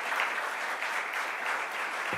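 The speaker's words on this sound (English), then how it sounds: "Let's give them another round of applause." Steady, dense applause from an audience at a New York governor's press event, brief and moderately distant, with a low voice starting to speak just as it ends.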